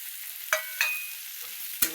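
Rice stirred into a pan where peanuts, onion and tomato have been frying: a soft sizzle under three sharp spatula scrapes against the pan, no voices.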